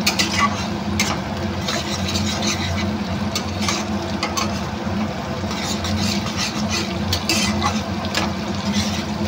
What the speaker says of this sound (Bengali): ডিমটা দেওয়ার পর একটু নাড়াচাড়া করে নেব।